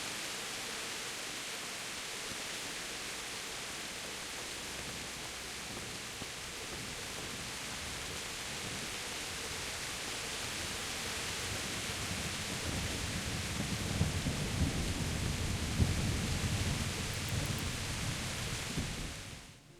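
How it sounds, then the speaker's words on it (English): Rain hisses steadily in a video game thunderstorm, with low rumbling thunder swelling in the second half, a continuous wash of sound with no talk. "you're outside in the rain"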